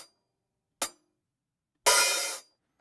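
Three separate hi-hat samples for a neo-soul drum groove, played one at a time with gaps: two short, crisp closed hits, then a longer open hat that rings with a bright sizzle for about half a second.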